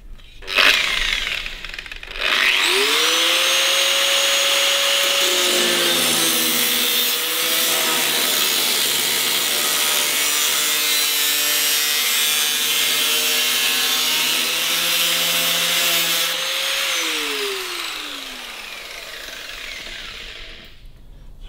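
A jigsaw cuts a panel on a 1941 Kubelwagen, rising to a loud, sustained buzzing whine close by that holds steady for about fifteen seconds and then winds down.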